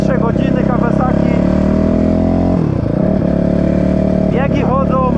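A rebuilt Kawasaki KXF450 motorcycle engine runs loud and close, holding a steady idle, dipping briefly, then climbing back, with sharp throttle blips near the start and end.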